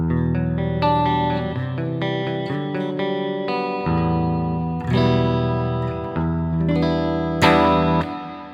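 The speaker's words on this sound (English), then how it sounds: "Now with everything off, only the reverb." Clean electric guitar chords and arpeggios through a Joyo DC15S practice amp with reverb as the only effect, each strum decaying into a soft, roomy tail.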